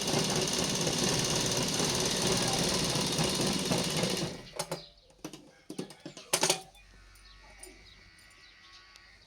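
A domestic sewing machine stitching a punjabi dress top, running steadily and loud for several seconds, then stopping. Brief clicks and handling noises follow as the fabric is adjusted.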